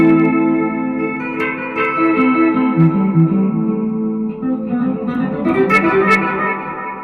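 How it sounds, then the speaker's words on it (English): Electric guitar chords and picked notes through a Spark amp drenched in heavy reverb and echo, with a washy, effect-laden tone that blurs the notes, played steadily and fairly loud. "put the reverb up and have like a really reverberated sound on the Spark amp"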